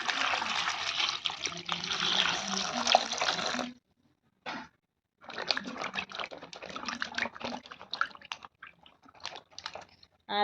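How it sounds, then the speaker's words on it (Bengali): Pointed gourds are washed under a running kitchen tap, with a close, splashy rush of water that stops briefly midway and then resumes with irregular spattering bursts. "এবারে এই পটলগুলোকে ভালো করে ধুয়ে নেব।"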